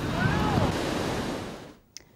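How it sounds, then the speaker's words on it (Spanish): Huge sea waves breaking against a seawall along the San Sebastián promenade, a loud continuous roar of surf and spray with wind, fading out near the end into quiet with a brief splash. "El paseo marítimo se ha llenado de agua procedente de las enormes olas que rompían contra el muro."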